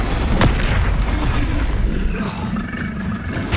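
Incendio fire spell cast in a wizard video game: a loud roaring blast with a sharp crack near the start, then a sustained rumbling whoosh that slowly fades.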